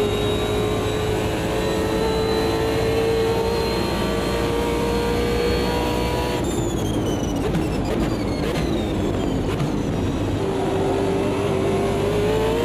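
BMW M3 GT2 race car engine in the Automobilista 2 racing game on a bumpy street circuit, a loud, steady, close droning roar with rising and falling pitch, a rougher, choppier stretch over the bumps midway, then climbing again.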